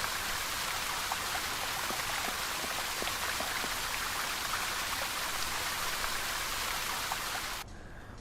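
A fountain's water jet in the video game Secret Files 2 runs as a steady, dense hiss of splashing water, loud and constant throughout before dropping slightly at the very end.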